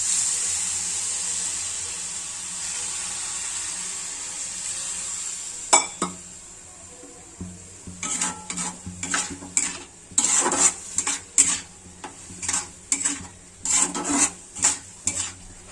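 Water poured into a hot pan of frying food on a home stove, giving a long hiss followed by a quiet pause, then a run of sharp clinks and scrapes as a utensil stirs against the pan.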